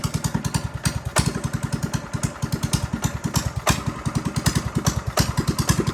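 Small mini bike engines idle loudly nearby with a fast, steady, choppy putter and occasional revs rising over the rhythm.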